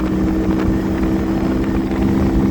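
Kuba SJ 50 Pro motorcycle engine droning steadily while climbing a steep hill in fourth gear, a loud continuous close-up hum with wind noise over the microphone and no speech.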